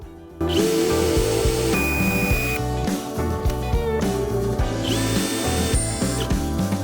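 A Dnipro-M Compact brushed cordless screwdriver runs at its first speed, giving a close, steady whining motor tone with shifting pitch and faint ratcheting clicks, and no speech over it.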